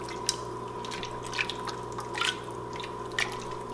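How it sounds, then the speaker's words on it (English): Jambalaya with chicken is stirred in a pot, giving faint, sparse wet squishing and clicking sounds over a steady low hum, with no talk. "We're going to stir this all up."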